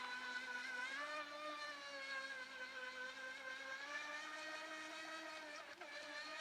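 A hobby-grade RC prop ski boat motor runs over grass, a steady high whine with stacked harmonics holding near constant pitch, slight wavering and a brief dip late on, continuous and close with no talk.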